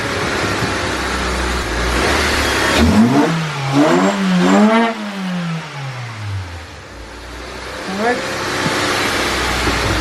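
A car engine turns over and catches, then revs up and down in rising and falling sweeps before settling into a steady idle, with a voice briefly heard.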